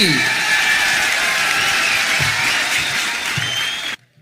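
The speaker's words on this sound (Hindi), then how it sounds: "भरपूर तालियों में इस्तकबाल कीजिए" Audience at a mushaira welcoming a poet with applause, loud dense clapping filling the room for about four seconds before cutting off sharply, with faint crowd noise beneath.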